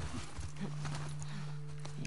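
Horse hooves clopping in the video game The Last of Us Part II, a few soft, close footfalls over a steady low hum, with faint voices nearby.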